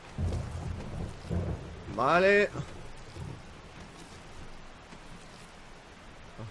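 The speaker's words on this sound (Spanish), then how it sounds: "Está tronando" Thunder rumbles low beneath steady rain in the game 7 Days to Die, while a voice briefly speaks over the storm.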